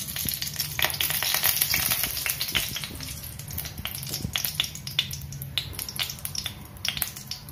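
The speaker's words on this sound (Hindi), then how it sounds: "ये ड्राई फ्रूट डाल के हल्के से इनको रोस्ट कर लेंगे।" Dry fruits roast in hot ghee in a pan for semolina halwa, giving a steady soft sizzle with frequent sharp crackles and pops throughout, close and moderately loud.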